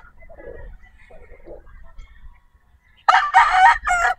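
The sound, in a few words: bullstag rooster crowing at a gamefarm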